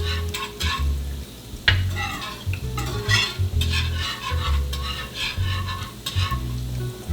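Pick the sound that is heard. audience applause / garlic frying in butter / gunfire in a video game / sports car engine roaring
garlic frying in butter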